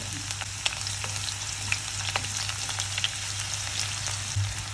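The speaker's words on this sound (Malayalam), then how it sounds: "ചെറുതായി അരിഞ്ഞു വെച്ചിരിക്കുന്ന ഉള്ളി ഇട്ട് കൊടുക്കുക." Chopped onion dropped into hot oil with mustard seeds for a poached egg curry, giving a steady close sizzle dotted with small crackles and pops throughout, with no voices.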